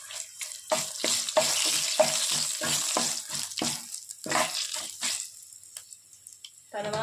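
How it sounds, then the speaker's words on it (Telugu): Cumin seeds and dried red chillies fry in a hot pan for gongura pachadi, a steady sizzle broken by a rhythmic series of scraping stirs up close that fades near the end. "జీలకర్ర మంచిగా ఫ్రై అవ్వాలి, ఎండుమిరపకాయలు ఫ్రై అవ్వాలి"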